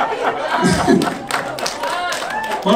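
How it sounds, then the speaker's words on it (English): Comedians clap at an Orlando Improv comedy club, a scattered patter of hands with a few thumps, heard beneath someone talking close to the microphone. "those are the comics clapping"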